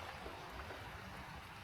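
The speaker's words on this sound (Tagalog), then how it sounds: "yung agos ng tubig sa kalsada" Rainwater running along a road during the rainy season in Alberta, a steady, even rushing wash with no gaps or voices.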